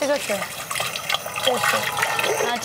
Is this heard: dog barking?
no